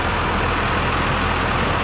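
A second-generation Cummins diesel engine runs steadily at idle, a loud, continuous rumble that stays even for the whole stretch with no voices over it.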